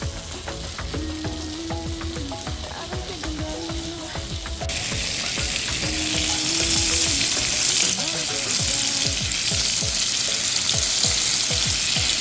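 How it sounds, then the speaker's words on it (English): Butter and a little olive oil sizzle loudly in a pan, a steady frying hiss that grows fuller and brighter partway through, with scattered clinks and scrapes of stirring and no talk. "So now we're going to proceed to throw in some butter. In our pan. And then just a little bit of olive oil."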